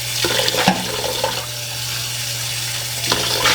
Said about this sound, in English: I'm just going to empty this water out of here and rinse it out.